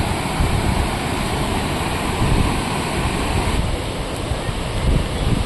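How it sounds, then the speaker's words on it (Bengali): Water from a large dam rushing and falling below a bridge at Chittaranjan, a dense, steady roar with wind buffeting the microphone and no speech. "এই ব্রিজটার উপর থেকে দেখছেন এই জলটা পড়ছে জলটা কত স্পিডে আসছে"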